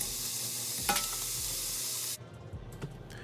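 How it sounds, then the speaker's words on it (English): Onions and garlic are stirred and simmered in a pot for a creamy potato hamburger soup. A steady, bright sizzle holds for a couple of seconds, then drops to softer stirring scrapes and bubbling. "we're going to add the onions and the garlic. Now stir and simmer for about another 3 to 5 minutes."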